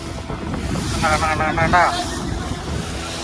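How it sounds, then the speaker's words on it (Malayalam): Sea waves break against a rocky shore in a continuous broad roar, with heavy wind buffeting the microphone and a brief voice rising over the surf midway. "ഈ പാറകളുള്ളതുകൊണ്ടാണ് ഇവിടെയൊക്കെ കടലടിക്കുന്നത്"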